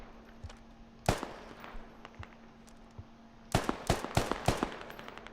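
Video game gunfire cracks in sharp, close bursts: a lone shot, a quieter stretch with distant pops, then a rapid cluster of loud reports near the end, with no talk over it.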